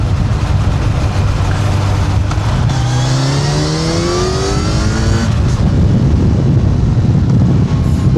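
A Kawasaki Ninja 1100SX motorcycle engine accelerates hard and close by, revs sweeping upward in a loud, continuous roar that climbs through the gears without any talking.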